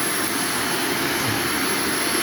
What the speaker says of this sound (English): Items I shouldn't send through the vacuum.